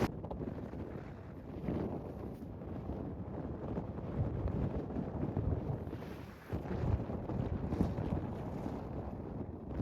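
Strong, steady wind roars and buffets the microphone on a mountain top in Canyonlands National Park, a dense low rumble with gusty surges and no voices.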